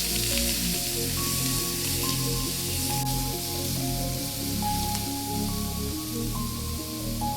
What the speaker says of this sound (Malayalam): അതും കൂടെ അതിലിട്ട് കൊടുത്തിട്ട് നന്നായി വഴറ്റിയെടുക്കുക.